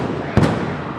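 A single stun grenade bursts at a street disturbance involving students, where bottles and missiles are being thrown; one short, sharp bang stands out from steady crowd and street noise, then fades back into the background din.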